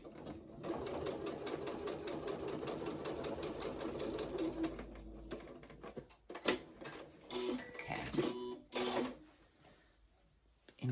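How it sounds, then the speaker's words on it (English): A home sewing machine stitches up a small hole in a garment, a rapid mechanical chatter running steadily for several seconds, then stopping into short handling clicks and rustles. "now we're just gonna sew up our little hole here."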